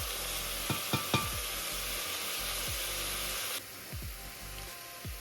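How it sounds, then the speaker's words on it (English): Chopped onion sizzling in a hot pan as it softens, a steady close hiss with a few light clicks of stirring; the sizzle drops noticeably quieter partway through. "So I'm gonna go ahead and add the onion first. And I'm gonna just cook these until they get soft."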